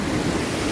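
Strong sea waves surge against a rocky shore at a coastal sanctuary, a loud, close, roaring wash of surf mixed with wind buffeting the microphone.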